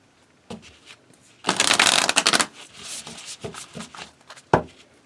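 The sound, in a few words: shuffling an Oracle card deck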